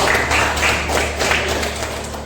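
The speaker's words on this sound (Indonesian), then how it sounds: "Tepuk tangan dulu untuk kelompok 2" Classroom applause for a student group after their presentation, a steady wash of many hands clapping close by with no voices over it.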